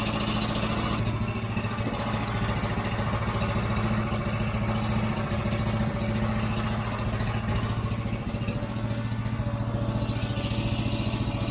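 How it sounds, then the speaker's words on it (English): Portable sawmill engine idling steadily to warm up with the choke on, a continuous loud, even rumble with a strong low hum and no pauses. "Put the choke on, and then we'll let that warm up"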